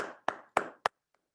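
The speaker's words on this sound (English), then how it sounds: "let's give all of the candidates in the 24th Assembly District a round of applause" Brief applause for candidates of the 24th Assembly District at a meet-the-candidates forum: three sharp clap bursts, the first preceded by a short scattered patter, each fading quickly, then a faint tap before silence.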